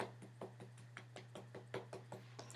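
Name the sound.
makeup brush tapped to knock off excess powder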